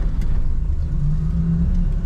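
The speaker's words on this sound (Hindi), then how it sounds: "मैं धीरे धीरे क्लच छोड़ूंगा और धीरे धीरे एक्सीलेटर दबाऊंगा, तो अपनी गाड़ी बढ़ना चालू हो जाएगी आगे।" A Maruti Omni pulls away in first gear as the clutch comes up, a loud, close, steady low engine rumble with a slight rising drone and no speech.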